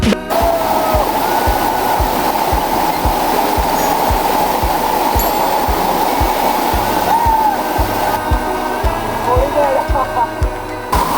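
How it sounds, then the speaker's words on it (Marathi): Loud, steady rushing water pours and splashes continuously close by as monsoon water flows down stone steps at Korigad Fort, a dense roar with a faint rhythmic thumping underneath. "हे वरून पाणी येत आहे आणि हे सरळ पायऱ्यावरून खाली जातं"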